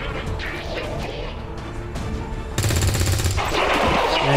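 Rapid gunfire in the video game Long War 2, with scattered shots and crashes giving way to a louder, sustained burst of automatic fire near the end.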